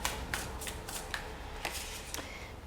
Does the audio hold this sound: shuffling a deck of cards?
yes